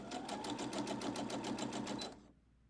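A sewing machine sews a small quilt star block with an eighth-inch seam, giving a quick, even run of rapid needle strokes for about two seconds before it stops abruptly into near silence.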